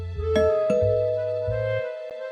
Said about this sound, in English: Hearing the bell, Zach got his wallet and hurried to answer.